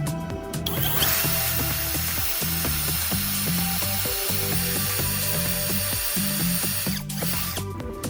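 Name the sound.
power drill drilling holes in PVC pipe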